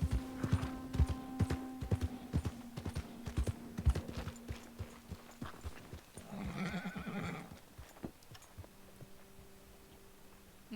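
Rhythmic horse hoofbeats clop steadily in the video game Red Dead Redemption 2, then a horse whinnies briefly before the steps resume, with a low tonal hum beneath.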